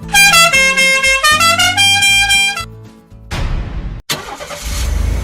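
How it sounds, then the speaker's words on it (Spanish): A car horn plays the Dixie melody in a rapid run of bright musical notes. An engine then revs loudly, pauses for a moment and roars up again. "imposible no recordar su bocina con la melodía Dixie"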